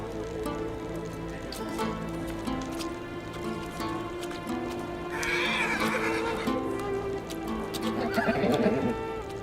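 A mare neighs and whinnies loudly partway through, with hooves clip-clopping at a steady pace before and after, close by over a faint outdoor background.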